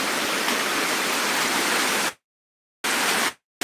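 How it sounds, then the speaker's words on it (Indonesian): Loud, steady broadband rush of a swift, rain-swollen river in Sicini village, Gowa, Indonesia, continuous and close, cut off abruptly twice by brief silences. "kita lihat sungainya dulu. Deras sekali"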